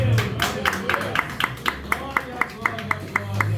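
A church congregation claps in a steady, evenly spaced rhythm, about a dozen sharp claps at moderate loudness, over a low hum of voices.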